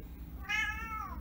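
A pet cat gives a single drawn-out meow, clear and close, rising then trailing off over a low indoor background hum.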